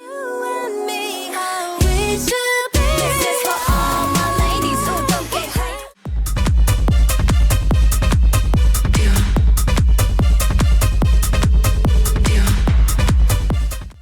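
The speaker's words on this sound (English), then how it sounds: "You mean to tell me you gave us a chanting chorus for a song that sounds like this?" A Y2K-styled K-pop song plays loud with no talk over it: a bright vocal and synth intro with brief drops, then a pounding steady beat with dense layered production from about six seconds on.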